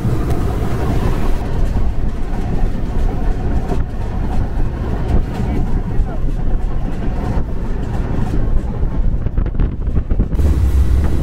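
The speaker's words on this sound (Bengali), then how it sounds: "মধুমতি এক্সপ্রেস এই মুহূর্তে প্রবেশ করছে পদ্মা রেলওয়ে স্টেশন" The Madhumati Express rolls into Padma railway station with a steady low rumble and rattling of coaches, heard from on board while a voice talks over it.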